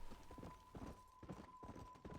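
Horse hooves clip-clop at a steady walking rhythm in the video game Red Dead Redemption: Undead Nightmare, evenly spaced soft thuds close by under a faint steady tone.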